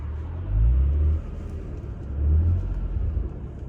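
A 1999 Bayside Blue Nissan Skyline R34 coupe turbo engine gives two deep, rumbling revs, fairly faint and muffled, with a steady low idle between them.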